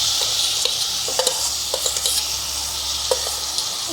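Cauliflower and capsicum sizzle steadily in a frying pan for pav bhaji while a spoon stirs and scrapes, giving soft irregular clicks and scrapes close by over the constant hiss.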